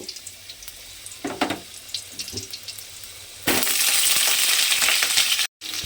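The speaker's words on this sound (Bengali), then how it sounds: "এবারে আমি তেলের মধ্যে দিয়ে দেব আলু" Halved potatoes dropped into hot oil set off a loud, steady broadband sizzle that starts suddenly partway through, after quieter clatter, and continues to the end with one brief break.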